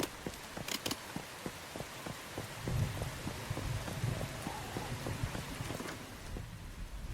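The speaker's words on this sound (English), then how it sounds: "Fortunately, it is raining." Rain falls steadily in the survival game Once Human, a dense wash of patter with sharp droplet ticks and some heavier thuds, continuous and fairly close throughout.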